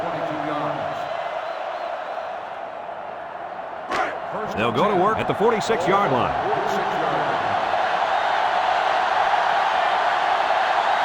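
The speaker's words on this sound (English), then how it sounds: "So this crowd is making their presence felt." A stadium crowd in NCAA Football 2005, Michigan versus Ohio State, roars as a continuous loud wash that swells and stays high, while a commentator speaks over it.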